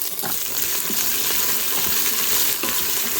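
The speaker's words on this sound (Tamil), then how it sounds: "கடுகும் சீரகமும் நல்லா வறுந்து வெடிச்சதுக்கு அப்புறமா வெண்டைக்காயை போட்டு வதக்கலாம்." Steady sizzling of okra frying in a hot Instant Pot after mustard seeds and cumin, with occasional stirring clinks and pops, close and continuous.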